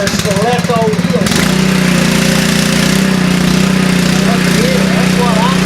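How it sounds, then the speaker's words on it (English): A 2700 PSI pressure washer starts up and runs with a loud, steady engine drone and constant spray hiss that fills the whole stretch, with a person talking briefly at the start before the motor takes over. "Got a 2700 PSI pressure washer."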